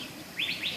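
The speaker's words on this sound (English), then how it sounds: "This bird is not afraid of me." A small bird at the Phoenix Zoo gives three quick, bright chirps close by, short rising notes in a row against faint, quiet background hiss.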